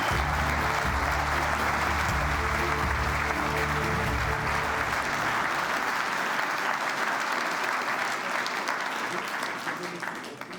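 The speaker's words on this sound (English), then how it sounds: "Let's give Philipp a big applause" An event audience gives a speaker a long, loud round of applause. A voice speaks over the first half, then the clapping continues alone and fades slightly at the end.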